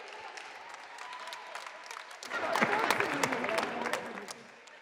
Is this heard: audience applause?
yes